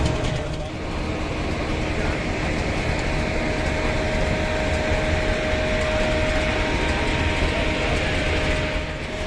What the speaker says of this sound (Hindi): तो चलें जी, इस ट्रेन का इफ्तिदा हो रहा है 27 अब शालीमार एक्सप्रेस का।